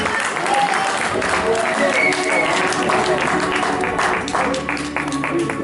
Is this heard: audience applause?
yes